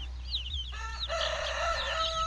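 Backyard chickens of egg-laying breeds such as Brahmas, blue-laced red Wyandottes, Easter Eggers and Ameraucanas, out on grass, give off a clear rooster crow and busy clucking, fairly close and loud over a faint low hum.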